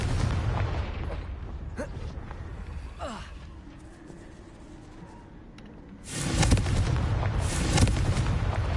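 An explosive spell goes off in the video game Hogwarts Legacy, a loud booming blast that bursts in suddenly and rumbles on for a couple of seconds after quieter game sounds.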